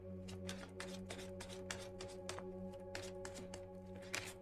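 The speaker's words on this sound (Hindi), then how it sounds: "सो शफल कर लेते हैं कार्ड्स।" Tarot cards being shuffled by hand in quick, close bursts of riffling and flicking, steady over a low background hum, with no one talking.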